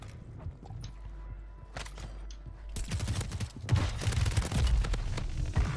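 Video game gunfire in a competitive shooter match, sparse distant shots at first and then a dense, loud burst of rapid automatic fire with clattering impacts that continues to the end, no talk.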